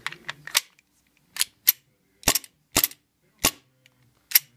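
Repaired HG 192 airsoft blowback gas pistol firing about nine sharp, loud cracks with slide clacks, spaced irregularly with short silences between.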